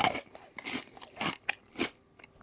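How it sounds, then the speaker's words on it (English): Crunchy peanuts being chewed up close, a quick irregular series of crisp bites and crunches with short pauses between them and no talk. "If you like peanuts, it's really good. It's really crunchy."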